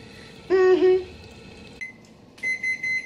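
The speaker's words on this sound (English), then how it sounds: "the timer is done on that" A kitchen oven timer goes off with a sustained electronic tone followed by a series of short higher beeps, near and clear in a quiet room.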